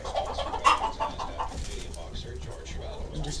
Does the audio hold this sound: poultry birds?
yes